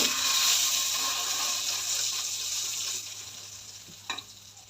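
Shrimp sizzle steadily in melted butter in a pan, a loud close hiss that slowly eases, with a couple of quick utensil clinks near the end.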